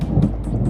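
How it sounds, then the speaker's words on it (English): A short, steady rumble of thunder rolls under heavy storm rain, loud and continuous with a few brighter hissing bursts of rainfall on top. "The storms also dropped torrential rain and hail upwards of golf ball size for a short time."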